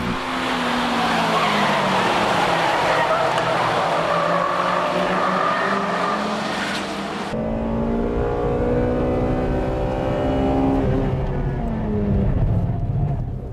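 A Honda Integra Type R with a VTEC engine races around a track, its engine loud and close with tire squeal through the corners, then a clear change to a sustained revving engine note.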